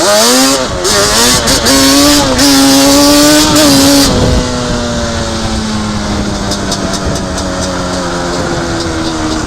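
A Yamaha Banshee ATV engine fitted with an air box mod revs loudly up close in rising and falling two-stroke bursts, then settles into a steady high idle drone.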